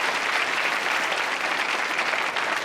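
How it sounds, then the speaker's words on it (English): Audience applause at a stand-up comedy show, a steady, dense wash of clapping from a crowd that holds evenly for a few seconds at moderate level with no talking over it. "You can clap for them."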